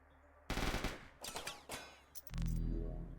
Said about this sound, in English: Let's just get a shot onto the enemy.